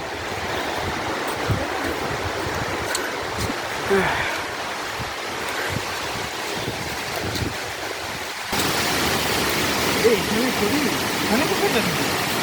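A steady, broad roar of rushing water from Duduma waterfall in Koraput fills the scene, growing noticeably louder partway through, with faint voices and wind buffeting underneath.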